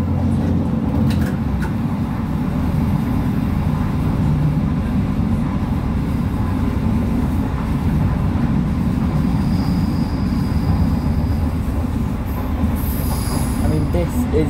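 A British Rail Class 158 diesel train passes close by, a loud steady rumble with rolling wheel noise and brief squealing toward the end, no talk over it.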